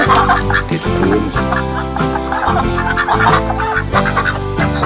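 Giant Rouen ducks, a large European breed, call and chatter loudly and close by in a farm setting, with repeated overlapping quacks and bursts throughout.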